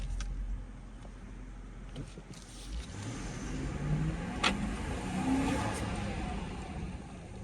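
A 2018 Jeep Grand Cherokee HEMI V8 engine hums low inside the cabin, then swells as it accelerates, with road rumble and a few faint clicks and creaks.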